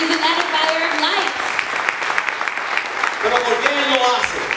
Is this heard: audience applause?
yes